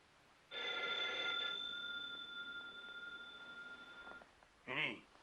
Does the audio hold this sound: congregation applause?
no